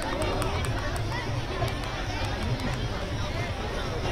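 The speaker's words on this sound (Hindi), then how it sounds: "किस तरीके से घाटों पर तमाम भीड़ मौजूद है" Large festival crowd gathered at river ghats during Chhath, a dense continuous babble of many voices and movement, steady and loud throughout.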